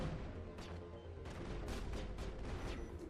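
Rapid, overlapping bursts of gunfire from a firefight in the video game Mass Effect 1, loud and nearly continuous with repeated sharp volleys and no talking.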